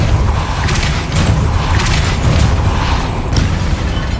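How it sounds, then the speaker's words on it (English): A video game mechanism spins with a steady, heavy mechanical rumble and grinding as it raises a platform. The sound stays loud and continuous throughout, with no talking. "Making this spin ought to raise that platform"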